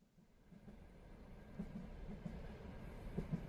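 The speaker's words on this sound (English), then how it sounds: "are we on a train or something?" Low, steady rumble of a moving train carriage in the video game A Simple Train Ride, with faint rhythmic knocks and rattles from the rails building gradually over a few seconds; no one speaks.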